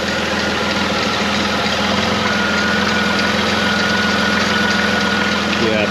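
2006 Pontiac Montana engine idling with a couple of exhaust leaks, a steady low rumbling drone with faint ticking, continuous and close throughout.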